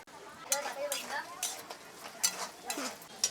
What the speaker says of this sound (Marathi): आपले बटाटे बघूया तेलामध्ये असे लाल होऊ तोपर्यंत तेलात ठेवायचे त्याला हलवायचे